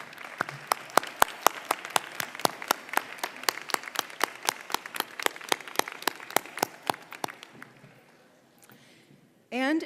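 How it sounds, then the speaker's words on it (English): An audience at a nursing school graduation ceremony claps in a crisp, rhythmic wave that thins out and fades near the end, followed by a short silence before a voice starts. "So I ask you to stand and turn and applaud those folks"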